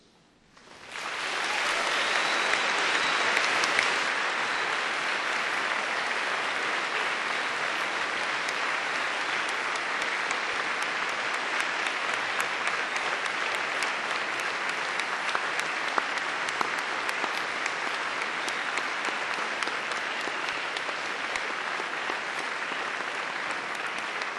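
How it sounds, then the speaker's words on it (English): Graduates at a Cardiff University graduation ceremony give their family and friends a long, enthusiastic round of applause, a dense, steady wash of clapping from a large hall crowd that swells quickly and holds loud for over twenty seconds. "giving them all an enthusiastic round of applause"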